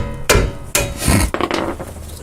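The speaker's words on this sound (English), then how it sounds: "I'm gonna hit the wrench with this part of the hammer, not the head of the hammer" Metal hammer striking a wrench to loosen a rear disc brake caliper bolt, three sharp close impacts with scraping and rattling in between.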